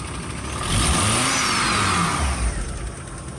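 Engine of a Volkswagen T4 van revving up from idle, a steady loud mid-pitched drone that swells and holds, close by, with no talk over it.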